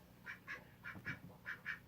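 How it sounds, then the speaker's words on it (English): Ducks quacking in a quick series of six short, evenly spaced calls, faint and somewhat distant in a quiet setting. "I can see the ducks over there."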